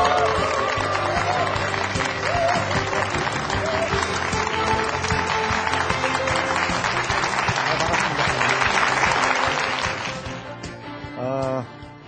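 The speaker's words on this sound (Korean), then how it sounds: "여러분 큰 박수로 환영해 주십시오." A lecture audience welcomes a CEO guest speaker with sustained, dense clapping that fills the room, then fades out. A brief voice is heard just as it ends.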